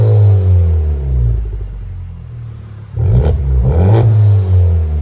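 Turbocharged car with a six-speed gearbox and a Remark exhaust system, its engine revving in two deep, loud surges after a steady rumbling idle, close by with no talking.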